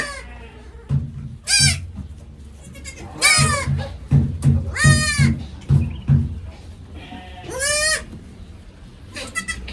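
Small Karumbi dwarf goats, among the world's shortest, bleat repeatedly and close by, several high, wavering calls overlapping in quick succession over lower grunting and shuffling.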